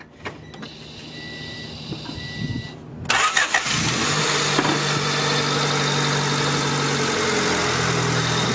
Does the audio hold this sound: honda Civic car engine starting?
yes